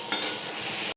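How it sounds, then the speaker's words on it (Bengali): Pointed gourd (potol) frying in a pan at home while being stirred, a steady close sizzle with scraping stir sounds running throughout before stopping abruptly at the end. "এদিকে পটল ভাজা হচ্ছে"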